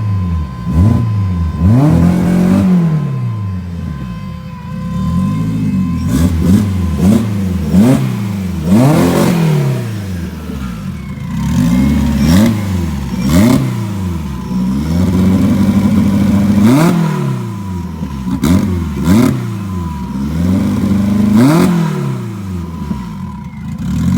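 An EG Honda hatch racecar with a full-feed fuel setup, running on Honda S300, revs repeatedly in sharp rising and falling bursts, loud and close, settling briefly between throttle blips with no voices over it.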